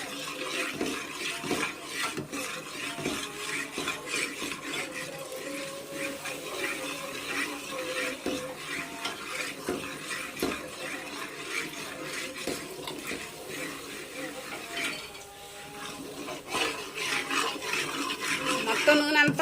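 A Mysore pak mixture is stirred with a utensil scraping and clinking against the pot while hot oil is poured in little by little. The scraping is continuous and moderately loud, and a brief lull comes near the end.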